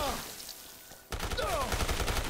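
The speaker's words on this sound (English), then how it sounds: "How is he shooting me when I'm standing point blank?" Gunfire in Dead Rising Deluxe Remaster, with a quieter stretch that gives way to a loud burst of rapid shots and in-game noise in the second half.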